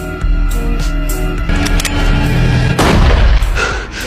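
A sniper rifle shot rings out loud and close, a heavy boom with a long rolling echo that fills the whole span, a second sharp report following about halfway through.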